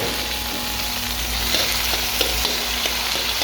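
Tomatoes sautéing in a hot pan, a dense continuous sizzle and crackle, close and even, with occasional light stirring taps and no voices.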